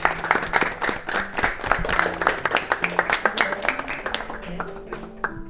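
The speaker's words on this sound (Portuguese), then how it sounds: "É isso, palmas, né?" Scattered clapping from a small group in a house, distinct individual claps in uneven rhythm, close and moderately loud, mixed with people talking and laughing.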